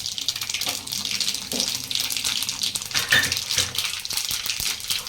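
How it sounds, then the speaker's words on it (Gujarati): Cumin seeds dropped into hot oil with mustard seeds already in the pan, tempering for a puffed-rice chevdo, giving a steady close sizzle and crackle with scattered sharp pops throughout. "એક ચમચી જેટલું જીરું નાખીશું"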